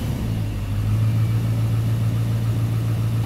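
A Duramax diesel pickup truck settles into a steady idle, its low rumbling drone continuous and close with a faint hum on top, and no talk throughout.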